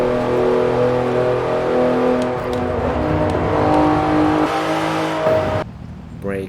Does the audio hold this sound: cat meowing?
no